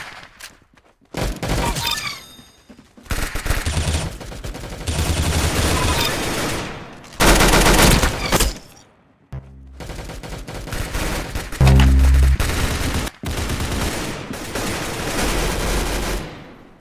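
Rapid bursts of gunfire at a shooting range, loud close volleys and fusillades repeating across the whole stretch with brief pauses between strings of shots.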